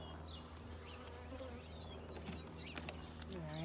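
Package bees buzzing steadily during a hive installation, a dense, faint hum with individual bees flying past close by.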